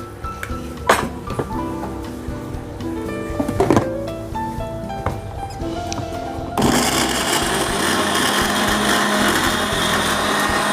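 Blender grinding shallots, garlic and nutmeg seeds with a little water for an East Javanese spice paste, a steady loud whir starting partway through after some clinking of kitchenware.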